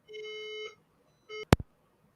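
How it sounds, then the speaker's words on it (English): Indoor fire alarm giving two electronic beeps, a long steady tone and then a brief repeat, followed by a sharp close knock; no voices. "There's a fire alarm."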